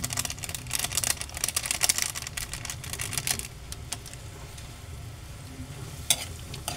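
Eggplant simmers in coconut milk with garlic, onion, chili and dried anchovies in a pan. A close, steady sizzle runs under crisp clicking stirs, busier at first and then thinning out, with no voices.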